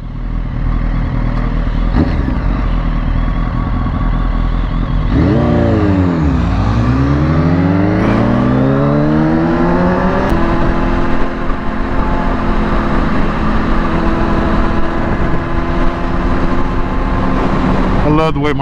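A sport motorcycle roars past, its engine pitch sweeping up then falling as it passes close by, followed by a sustained loud engine drone with wind noise.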